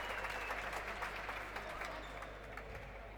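Crowd applause at a Liga de Desarrollo basketball game between Hispano Americano and Obras Sanitarias as a player leaves the court, a steady, fairly distant wash of clapping from the stands that slowly fades, with faint commentary voices beneath.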